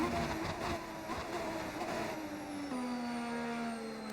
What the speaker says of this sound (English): Is that the engine of the tires making that shuv-shuv noise? Probably the downshifts you're hearing.